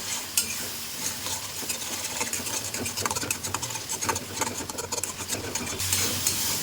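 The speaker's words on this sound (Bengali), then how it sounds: "এবারে এই মশলাটাকে খুব ভালো করে আমি কষিয়ে নেবো" A masala of Kashmiri and red chili powder is sautéed in a pan for paneer tintidi: dense close sizzling with constant spatula scraping and stirring, busy and moderately loud, no voices.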